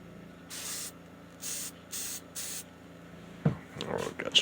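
A shaken can of spray paint fires four short, even hissing bursts in a regular rhythm, close by, followed by some clattering handling noise.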